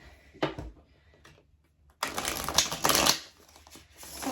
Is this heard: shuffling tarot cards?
yes